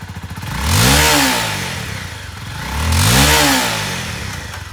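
Engine of a used 2012 Honda CBR250R lightweight sport motorcycle, revved twice from idle, each rev swelling up and then falling back, heard clearly with no voices.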